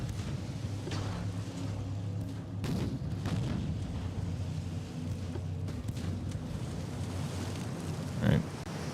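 Naval gunfire in Ultimate Admiral: Dreadnoughts, a steady low rumble of ship engines and sea broken by a few distant dull booms, with one sharper, louder blast near the end.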